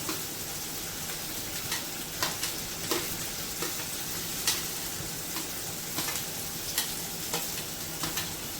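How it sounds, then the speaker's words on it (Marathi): Ginger-garlic paste frying in oil, a constant sizzle punctuated by regular clicks and scrapes of a spoon stirring in the pan, close and moderately loud, no voices. "तेलात चांगलं परतून घ्यायचं आहे अद्रक लसूण"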